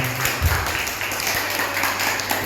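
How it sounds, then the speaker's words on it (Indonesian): Audience applause for Ibu Rahmat at a school presentation, a brief, dense wash of clapping heard throughout at moderate volume. "beri aplaus dulu untuk Ibu Rahmat"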